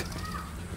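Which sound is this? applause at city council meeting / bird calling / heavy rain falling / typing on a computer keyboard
bird calling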